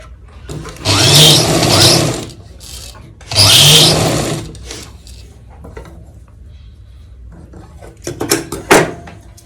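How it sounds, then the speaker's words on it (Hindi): A sewing machine stitching two fabric pieces together runs in two loud, steady bursts, then short clattering stops and handling knocks, close up with no voices. "इन दोनों को यहाँ पे इस तरह सिलाई से अटैच कर देंगे।"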